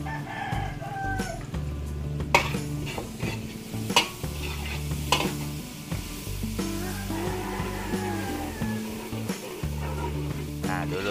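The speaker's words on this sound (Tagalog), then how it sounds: "Luluto-lutuin lang po natin yung ating panggisa." Garlic and onions sauté in a pan in a Filipino home kitchen, a steady sizzle broken by stirring clatters, while a rooster crows repeatedly in the background.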